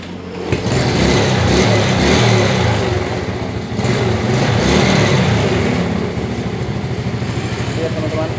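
A motorcycle engine runs loud and close throughout, holding a steady idle with rising and falling revs. Voices talk over the engine.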